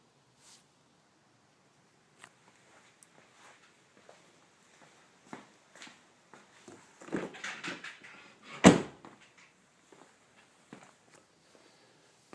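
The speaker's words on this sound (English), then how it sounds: "And I'll go open the door again." A car door on a 2013 Ford Focus is opened, heard as a quiet series of footsteps and handling noises ending in a sharp, fairly close latch clunk, with faint shuffling afterward.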